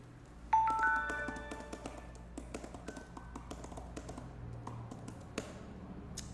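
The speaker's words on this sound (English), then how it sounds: "I'm going to do a little bit of typing on the original one here." Typing on the keys of an iPad Pro Magic Keyboard, the original older model, in close, crisp, fairly loud clicks tapping in an uneven stream for several seconds, with a brief chime near the start.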